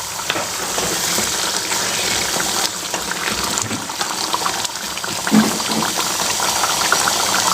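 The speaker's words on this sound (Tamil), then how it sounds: "இப்போ பாருங்கள், கிரேவி சூப்பராக கொதி வந்துட்டுருக்குங்க." Gravy bubbles and sizzles steadily in a cooking pot, a continuous loud frothy boil with faint stirring texture throughout.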